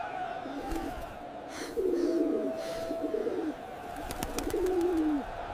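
Pigeons coo in soft, rolling phrases against a murmur of background noise, a few calls overlapping across several seconds.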